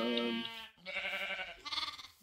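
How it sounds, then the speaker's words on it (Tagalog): Sheep bleating in the Minecraft video game: two or three wavering bleats in quick succession, close and clear, with no talking. "Nakapag-herd na ako ng sheep, mga tupa, may mga anak na ng tupa, anak ng tupa."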